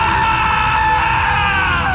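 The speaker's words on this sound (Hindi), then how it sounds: "एक रात राजू चिल्लाता हुआ" A man lets out a sustained, loud scream as he jolts awake in a horror story, a single unbroken cry with a slowly falling pitch over a droning effect bed.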